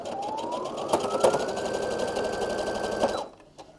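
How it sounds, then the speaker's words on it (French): Sewing machine stitching a pillowcase seam, a steady close whirring run lasting about three seconds before it stops. "Voilà, j'ai fini à coudre."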